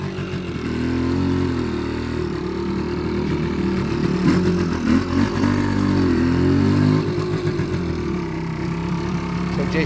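A 1978 Suzuki TS185C motorcycle engine runs and pulls away, a loud steady mid-pitched drone with small revving swells throughout, near and uninterrupted.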